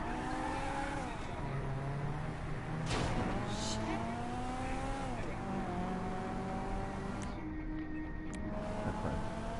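A car engine revs and shifts in a PS4 racing game, steady engine drone with rising and falling pitch sweeps and a brief tire squeal, running continuously at moderate loudness.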